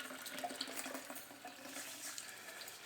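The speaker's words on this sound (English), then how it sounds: "we're gonna pour it right over top of the apples that we got in here" Runny homemade applesauce poured over chopped apples in a container for making apple cider vinegar, a steady wet pouring and splashing sound that runs continuously without talk.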